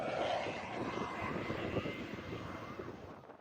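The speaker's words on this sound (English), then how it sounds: "with helicopters dumping water to douse the raging flames" Firefighting helicopters fly over wildfires in Chile, a steady droning engine roar that holds fairly constant and close throughout.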